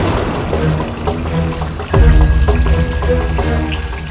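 Clean water pouring from a tap in a house in a cartoon, a loud steady rushing flow that swells partway through and continues to the end.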